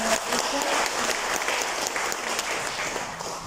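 A church congregation at a feast-day Mass claps steadily in sustained applause, dense and continuous throughout, fairly close and loud, with no pause.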